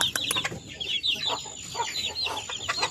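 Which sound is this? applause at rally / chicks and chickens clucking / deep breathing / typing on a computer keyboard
chicks and chickens clucking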